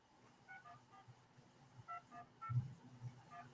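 A telephone being dialed, with a series of short two-tone keypad beeps in uneven bursts, faint against quiet background hum.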